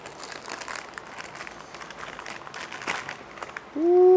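Packaging for an XTool D1 Pro 20-watt laser engraver crinkles and rustles as the box is opened, a run of scattered close crackles and crunches, followed by a brief tonal sound at the end.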